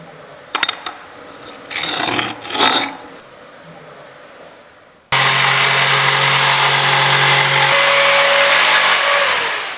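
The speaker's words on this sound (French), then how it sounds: "tu dois couper une lame à la bonne longueur" A snap-together laminate floor plank is cut to length with a power saw. A few handling knocks come first, then a loud, continuous buzzing cut runs for the last five seconds.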